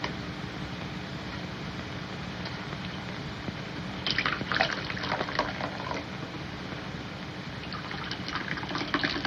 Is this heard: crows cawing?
no